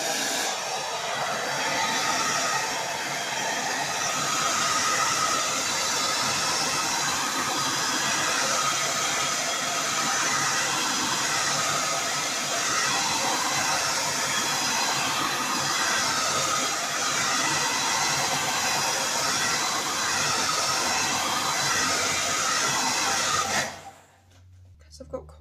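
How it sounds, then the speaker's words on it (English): Hairdryer blowing steadily over a fluid-art resin pour, a constant loud airy whoosh running for most of the clip before cutting off abruptly near the end. "I am going to use a hairdryer throughout this process"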